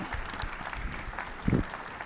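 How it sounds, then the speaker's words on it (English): Brief audience applause for a conference panel on Arctic partners, a faint smattering of clapping with one louder burst partway through. "let's have a round of applause for this panel"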